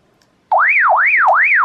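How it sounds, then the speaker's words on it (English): A Baofeng UV-9R Plus handheld radio sounds its alarm, a loud, close wailing siren tone that sweeps up and down in a steady repeating cycle, starting abruptly after a moment of quiet. "as you can hear, that is an alarm."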